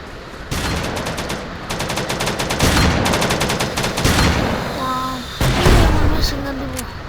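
Rapid bursts of video-game machine gun fire crackle in loud, rattling strings, broken by brief pauses, with a short voice-like tone partway through.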